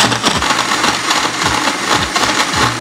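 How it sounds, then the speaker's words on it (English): A blender purees beets, dates and filtered water into a smooth mix with a loud, steady whirring roar that holds for several seconds, with no one talking. "all that's left to do is mix it up in the blender"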